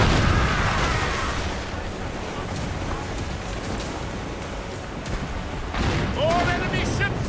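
Warship cannon fire during a naval battle in Assassin's Creed Rogue, heavy booming blasts rumbling over continuous noisy battle ambience, with shouting voices mixed in.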